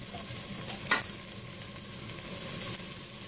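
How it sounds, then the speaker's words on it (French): Onions frying in a pan for a home dish of flat coco beans and corned beef, a steady close sizzle running throughout with a brief stirring scrape near the start. "Donc je vais ajouter les oignons."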